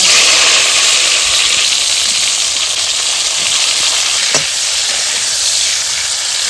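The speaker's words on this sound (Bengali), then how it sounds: "এইবার পরিমাণ মতো সর্ষের তেল দিয়ে দিচ্ছি এইবার আমি উস্তাগুলো ভেজে নেব" Bitter gourd pieces fry in mustard oil, giving a loud, even hiss that runs unbroken from start to end, with one brief knock partway through and no talking.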